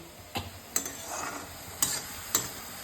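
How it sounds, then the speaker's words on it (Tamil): Capsicum poriyal sautés in a pan under a soft, even sizzle, with four or five crisp scrapes and taps of a spatula stirring it at close range. "இது குடமிளகா பொரியல் வதக்கின்னு இருக்கோம்"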